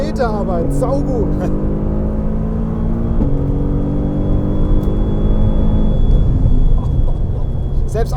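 Mercedes-AMG GT R takes a corner at speed on a wet race track, its engine droning loudly from inside the cabin with a gear change partway through, while people talk over it.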